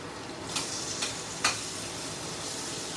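Chicken stir fry sizzling in oil on a hot plate: a steady, close hiss of frying with three sharp clicks or taps early on, and no voices.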